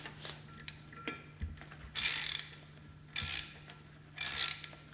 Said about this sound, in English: Turn the trim screw clockwise.